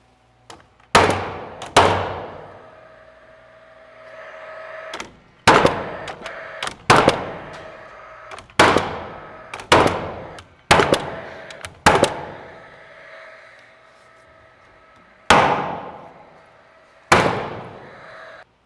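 A wooden top plate is fastened into framing blocks while framing bedroom walls in a post-frame barndominium, heard as about a dozen sharp, loud, close fastening bangs spaced irregularly, each followed by a short ringing decay.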